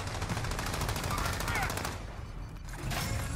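Rapid video game gunfire, dense automatic bursts crackling continuously at a fairly low level, with brief lulls, alone with no talk over it.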